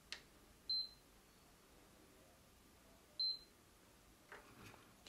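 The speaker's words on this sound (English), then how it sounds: "pressing and holding the power button on the console itself until you hear two beeps" Two short, high electronic beeps a few seconds apart from a PS5 console as it shuts down after its power button is held, in a quiet room, followed by faint handling clicks.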